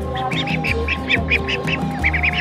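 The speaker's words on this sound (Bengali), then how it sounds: "এটা হচ্ছে পেটি হাঁস" Peti ducks quack in a village flock on Mayadip island: a close, steady run of nasal calls repeating roughly every quarter second, overlapping, with no talk.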